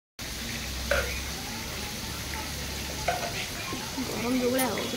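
Soybean chunks and potatoes frying in hot oil, a steady close sizzle with occasional stirring scrapes and clinks of a utensil against the pan.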